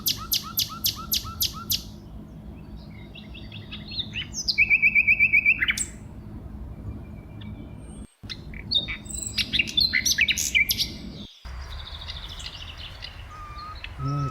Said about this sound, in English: Red Cardinal.